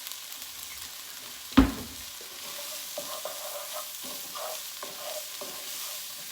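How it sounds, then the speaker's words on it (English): Turkey fajita white chili cooking in a pot with fajita seasoning just added, giving one sharp clatter near the start and then a soft, steady simmer with light stirring scrapes, close by and without talk. "so just cook the fajita seasoning just a few moments"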